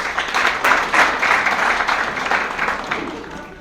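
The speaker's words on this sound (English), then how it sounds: "Please give her a big round of applause." A crowd applauds at a Kashmiri American Alliance New Year celebration and opening ceremony, a full, even round of clapping that fills the hall throughout.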